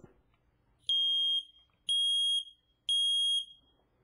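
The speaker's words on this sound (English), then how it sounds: "testing is done by pressing a button on the smoke alarm itself that usually indicates push to test" Three loud, shrill electronic beeps from a smoke alarm, each lasting about half a second and evenly spaced, with near silence between them.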